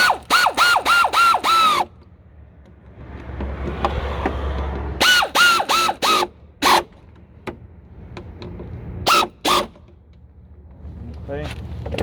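Power tool tightening bolts on Jeep Wrangler side steps, loud close bursts of whirring rattle in quick runs of several pulses, separated by quieter gaps with handling noise and an idle rumble.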